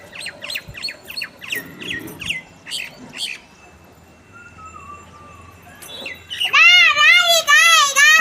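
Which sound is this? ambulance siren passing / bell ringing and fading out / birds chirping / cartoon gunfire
birds chirping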